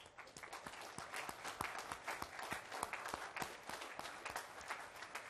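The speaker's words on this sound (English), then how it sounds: "give you a round of applause" An audience at a ship commissioning ceremony for the USS Charleston (LCS 18) claps steadily, a dense crowd applause heard from a distance, fairly faint but continuous.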